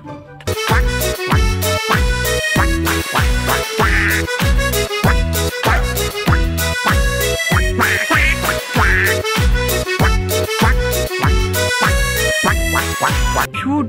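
A duck quacks loudly in a fast, steady rhythm of repeated calls that run without pause from start to finish, close to the microphone, probably a toy or looped sound effect.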